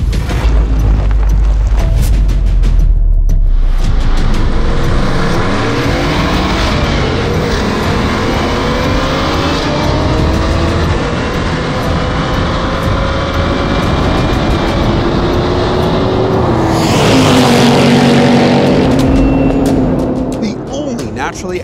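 A 2024 Ford Mustang Dark Horse, 500 horsepower, accelerating hard through the gears: a loud, continuous engine roar rising in pitch with several shift breaks, close and dominant throughout, ending in a deeper drone.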